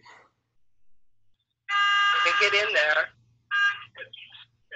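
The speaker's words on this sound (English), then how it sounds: "the clocks down here beep every so often" Clocks in a government building sound a loud electronic beeping tone to call people to vote, a long sustained beep followed by a shorter burst, with a voice talking before and after.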